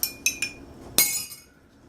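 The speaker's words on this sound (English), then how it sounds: "Give a little stir." A spoon clinks against a glass while stirring peach iced tea drink mix into water: a few bright, quick taps, then one louder ring that fades out.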